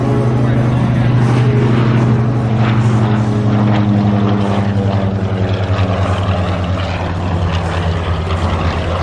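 An aircraft at the Geneseo Air Show drones past in a steady, loud, low propeller hum that holds for several seconds, with an announcer talking over it.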